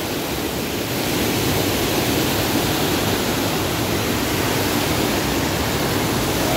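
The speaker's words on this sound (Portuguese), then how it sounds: "Mas agora a água vem com força" A strong stream in the rainy season in the Ceará backcountry, carrying small shrimp along, gives a loud, steady, broadband rush of water with no pauses.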